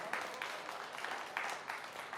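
An audience claps at a Hindi poetry recital, a steady patter of many hands heard from a moderate distance and fairly faint, swelling slightly in waves with no talk over it.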